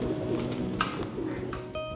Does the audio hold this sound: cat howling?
no